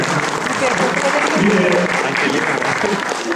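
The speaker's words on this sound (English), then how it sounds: "let us give a big round of applause for those guys" Audience applause at a Ugadi 2014 celebration, a dense, steady wash of many hands clapping that holds for the whole stretch, with some voices mixed in beneath it.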